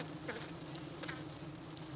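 Bees in Australia buzz with a steady, continuous drone, close and even, with brief brighter flickers of wingbeats over a low hum and no voices.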